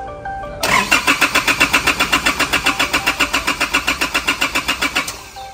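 A car engine with a weak, low battery cranks in a loud, even series of about two dozen labored pulses for several seconds before the sound cuts off, heard close and alone.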